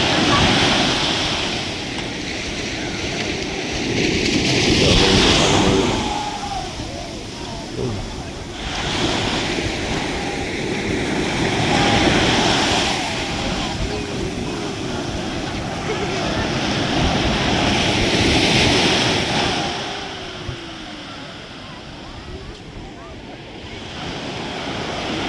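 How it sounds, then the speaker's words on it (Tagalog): Strong ocean surf at the Baler, Aurora surfing area, a steady loud wash of breaking waves with wind noise across the microphone and people talking over it. "Ang lakas ng alon."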